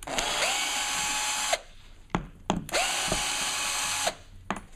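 A power drill backs J-hooks out of a meeting hall chair being taken apart, with two sustained whirring bursts of about 1.5 seconds each and brief clicks and knocks between them, loud and close, with no talk.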